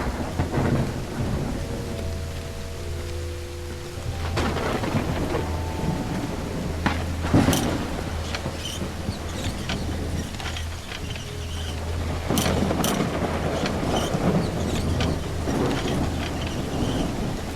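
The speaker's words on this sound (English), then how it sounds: "Looks like it's raining cats and dogs here." Steady heavy rain hisses throughout while thunder cracks and rumbles several times, with deep low rolling underneath, in the video game Call of the Elder Gods.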